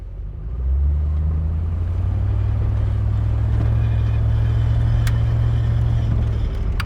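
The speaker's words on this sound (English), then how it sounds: "There's that gear change. It's pretty smooth actually." A Toyota Cressida's engine rumbles steadily as it accelerates, its low drone holding through a smooth gear change, with faint clicks near the end.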